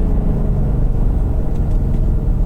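A Ford Mustang Bullitt on a track, its engine giving a steady, loud, low rumble as it holds third gear down a straight before braking, with no talk over it.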